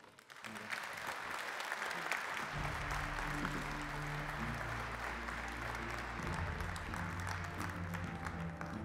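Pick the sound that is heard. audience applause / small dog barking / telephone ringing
audience applause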